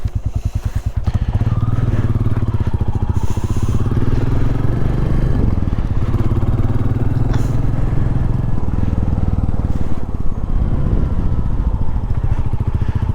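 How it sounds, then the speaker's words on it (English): Royal Enfield Classic 350 single-cylinder motorcycle idling close by with a steady thumping beat, rising and falling through several throttle blips as it is revved after starting outdoors, loud and alone. "When I get in a car, I don't sit there and rev it after I start it. Motorcycle, I do it."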